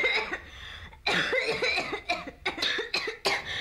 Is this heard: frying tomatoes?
no